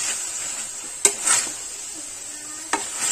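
A spoon scrapes and presses pav bhaji vegetables in a pan, a soft gritty stirring with a faint sizzle and two sharp clicks of metal against the pan.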